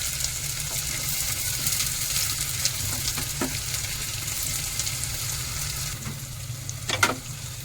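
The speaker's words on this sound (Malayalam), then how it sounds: "അതിൽ നമുക്ക് ഉള്ളി ഇട്ട് കൊടുക്കാം" Sliced onion sizzles steadily in hot oil with fenugreek for beef curry, a constant close hiss with a few light clinks of a spoon and a brief louder scrape near the end.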